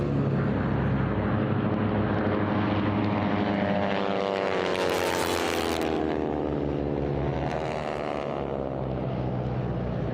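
T-6 propeller aircraft race around the east pylons in a bronze-class air race, with a loud, steady propeller drone and engine roar that swells as the planes pass nearby.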